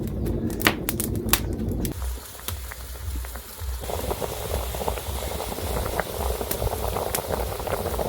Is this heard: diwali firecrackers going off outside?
no